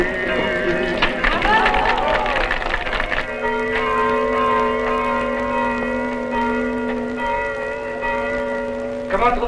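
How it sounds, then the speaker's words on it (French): Carillon church bells ring with sustained, overlapping tones that hang over a steady background, sounding fairly close and loud, with some faint crowd noise mixed in. "Comment trouvez-vous mon carillon, monsieur le curé?"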